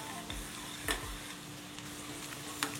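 Green chillies fry until crisp in a pan of hot oil for avalakki poha chivda, giving a faint, quiet sizzle broken by a few soft knocks of a stirring spoon.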